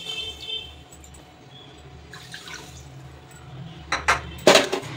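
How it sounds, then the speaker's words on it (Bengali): Sugar and a bowl of water tipped into a pot to start a syrup, heard as a few close clinks and splashy knocks of metal and liquid near the end, with quiet room tone before. "দিয়ে দেবো 1 বাটি চিনি, ওই বাটিরই দিয়ে দেবো 2 বাটি জল।"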